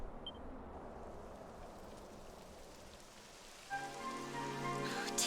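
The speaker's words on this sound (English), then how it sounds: "It would have to go and start raining, wouldn't it?" Steady rain patters down in the video game Dragon Quest XI, a continuous broadband hiss of drops on surfaces. Near the end, a brighter tonal layer of game music or ambience rises over it.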